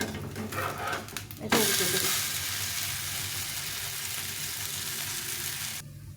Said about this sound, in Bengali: আমি এটা আরও উল্টে দিয়ে আরেক পাশে ভাজে এভাবে ভেজে নিতে হবে সবগুলোকে